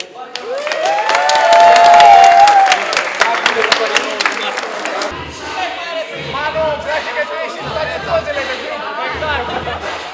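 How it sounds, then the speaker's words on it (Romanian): Audience applause and cheering for the organizers at a local robotics competition, loud and swelling for about five seconds, then fading into crowd chatter and talk. "cred că merită foarte mult aplauze din partea concurenței"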